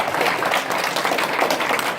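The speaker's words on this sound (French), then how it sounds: "je veux bien que vous l'applaudissiez" A crowd at a prize-giving ceremony applauds continuously, many hands clapping at once in a dense, steady wash of sound for a couple of seconds.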